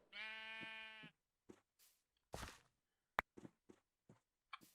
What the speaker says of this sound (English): I'm going to throw this egg at the sheep.